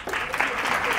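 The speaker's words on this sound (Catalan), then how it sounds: "Aplaudiment, no?" Studio audience applause during a Catalan television word game show, a dense, steady wash of clapping lasting about a second at moderate level.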